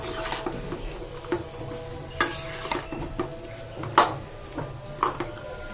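Winter vegetables such as boiled broad beans cook in a pan, a low simmering sizzle broken by several sharp utensil knocks and scrapes against the pan at irregular intervals, close and fairly clear, with no speech.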